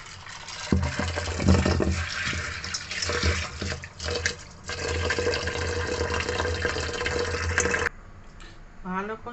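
Soybeans for homemade tofu are washed in water, with steady running and sloshing water filling a vessel close by, then a quieter stretch of gentle stirring and trickling at the end.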